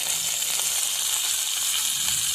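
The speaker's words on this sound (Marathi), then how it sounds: "मिरची आता आपली चांगली भाजायला लागलेली आहे आणि लसूण पण भाजते चांगला" Green chillies and garlic cloves roast in a pan with a steady, close hiss and crackle of sizzling oil, continuous and even throughout.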